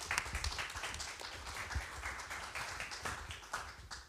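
An audience at a live-streamed malaria medicines panel event claps for the panel, giving a steady patter of applause at moderate volume with scattered sharper claps throughout, and no talking.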